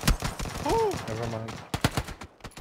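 Video game gunfire sounds as one sharp shot at the start and then a quick cluster of shots near the end, mixed in with casual talk.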